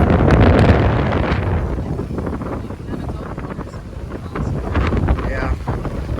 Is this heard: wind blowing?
yes